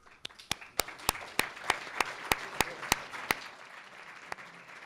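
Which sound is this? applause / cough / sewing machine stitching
applause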